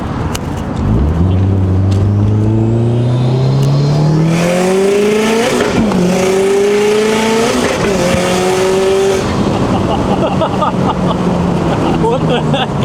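A 450whp Subaru WRX STi engine revs hard through rising pulls with shifts between, loud and close, then settles; no talk over it.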